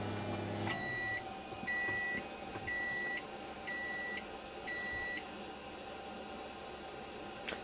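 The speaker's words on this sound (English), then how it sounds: "That just ran the microwave." Microwave oven powered through a cheap 1000-watt inverter in a van, its low fan hum running under a series of five clear electronic beeps in an even rhythm, fairly quiet overall with no speech.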